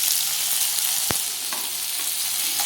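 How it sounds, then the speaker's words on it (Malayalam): Okra frying in hot oil for sambar gives a steady loud sizzle as tomatoes go in, with one sharp clink of a utensil against the pan partway through. "ഇതിലേക്ക് നമുക്ക് തക്കാളി ഇട്ട് കൊടുക്കാം."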